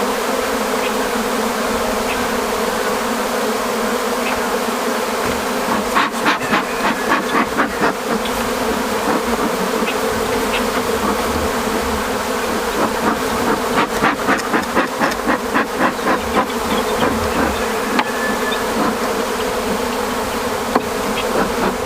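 Honey bees buzz around an open hive during a spring inspection, a dense, continuous drone with close individual bees darting past in louder bursts and no talking.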